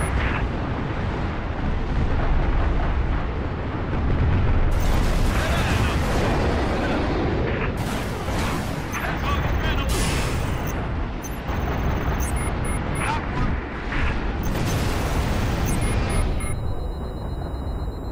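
Heavy artillery fire and explosions in the Halo Reach video game, a dense, continuous roar of booms and blasts with sharp bursts throughout, loud and close for the whole stretch.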